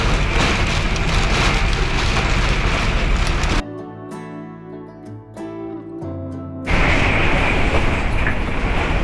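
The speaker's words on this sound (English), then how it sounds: "That's hail." Heavy hail pounds on a full-time RV during a storm in a loud, dense, hissing clatter. It drops away for about three seconds while a quieter tonal hum comes through, then surges back just as hard.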